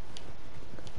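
Horse hooves clip-clopping in the video game Red Dead Redemption 2, a few quick, close hoof strikes over steady ambient noise in a very short burst.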